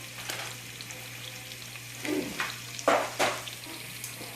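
Food browns in a pan on a stove turned up to medium-high, a soft sizzle under a low hum, with a few louder stirring scrapes and spatters near the middle.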